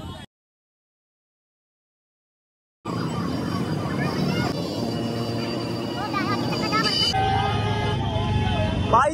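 Road traffic rumbles in a town traffic jam with repeated vehicle horns honking, some long and overlapping, while someone talks over the din.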